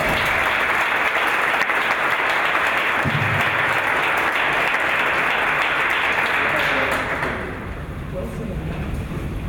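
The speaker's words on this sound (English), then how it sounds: "let's give them another round of applause" An audience at a school board of education meeting applauds two honored students, the clapping loud and sustained for several seconds before fading toward the end.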